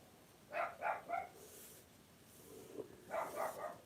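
A dog barks outside, two short bursts of three barks each, muffled and moderately distant against a quiet indoor room.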